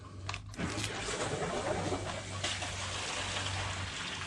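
Water pumped through a recirculation tub rushes steadily down an Arizona gold-prospecting sluice, a continuous close wash with a low pump hum underneath.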